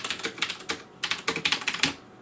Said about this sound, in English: tactile, clacky, in terms of like adjectives used to describe this kind of keyboard, a blue switch